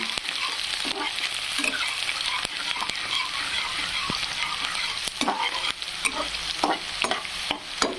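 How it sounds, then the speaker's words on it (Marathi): Onion with green chilies frying in a pan while being stirred, a steady close sizzle broken by frequent scraping and clinking strokes of the spoon throughout, with no talking. "छानपैकी कांदा तळल्यानंतर यामध्ये टाकायची आहे हिरवी मिरची"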